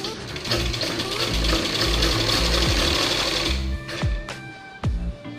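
A sewing machine stitches fabric for a cross-patti blouse, running loud and steady at close range before stopping, then a few short bursts of stitching follow.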